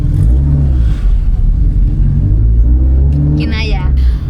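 A Toyota Corolla AE92 project car with a manual gearbox labours up a very steep road, its engine a loud, steady rumble close by, with a brief higher whine near the end.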